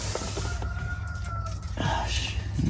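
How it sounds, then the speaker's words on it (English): A rooster crows at a distance behind a Mazda Miata roll bar being measured. The drawn-out call is faint under steady low-pitched background noise, with a person's voice briefly audible near the end. "Rooster."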